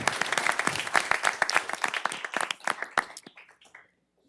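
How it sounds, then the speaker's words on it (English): Audience applause at a city council meeting, a moderate round of clapping that starts dense and thins to a few scattered claps before dying away into quiet. "let's give him a round of applause."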